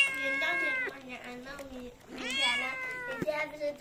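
A cat meows in a home, several drawn-out, wailing meows with rising and falling pitch, fairly close, interleaved with people talking.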